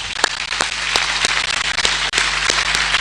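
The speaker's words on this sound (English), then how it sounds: "Can we give a round of applause?" Steady applause from an audience at a graduation ceremony, a dense continuous wash of clapping with a few sharper individual claps standing out, sustained and fairly loud for the whole stretch.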